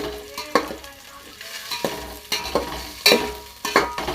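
Curry leaves frying in a pan: a hissing sizzle with sharp crackles and loud scraping stir strokes roughly every half second, close up, and a brief voice in the background.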